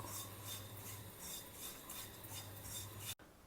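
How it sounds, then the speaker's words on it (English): A spoon steadily scrapes and stirs instant rolled oats dry-roasting in a pan, a continuous gritty rasping close by under a faint hum. "Now we will just dry roast it for a couple of minutes."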